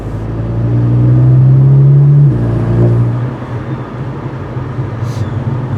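A fully warmed-up VW GTI idles through a newly installed exhaust with a deep, steady rumble that swells briefly as it revs, then settles back to a lower drone.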